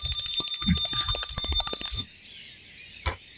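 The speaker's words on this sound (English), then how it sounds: "you may also ring the bell" A bell rings with a bright, sustained metallic jangle that cuts off sharply after about two seconds, leaving a faint hum and one brief later clink, loud and close.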